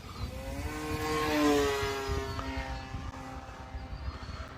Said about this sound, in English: this propeller has little weird, like, little tips on it that curve back, and it causes it to